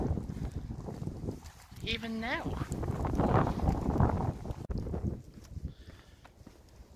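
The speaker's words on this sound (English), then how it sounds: "It's still really windy." Gusty wind buffets the microphone with a loud low rumble, while a person speaks briefly over it.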